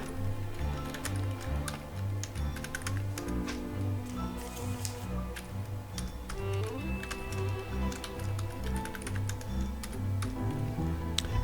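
A database password being typed on a computer keyboard gives steady, close clicking keystrokes over a background of music.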